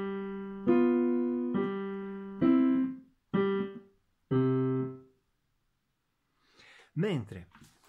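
Five or six sustained piano notes or chords in a low register, played by the left hand, each ringing then cut short, followed by a brief spoken phrase at the end.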